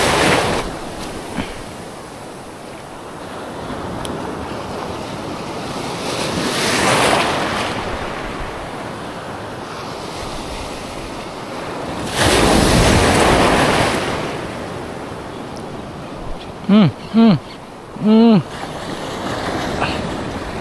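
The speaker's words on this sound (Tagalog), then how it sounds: "Lumalakas yung alon ha." Ocean waves surge and break around a small fishing boat out at sea, with a constant wash of water and gusty wind noise on the microphone, swelling louder in two long rushes, while brief voices and shouts come near the end.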